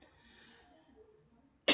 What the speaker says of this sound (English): I feel like my cough's about to kick in again